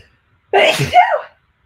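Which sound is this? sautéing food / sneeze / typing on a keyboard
sneeze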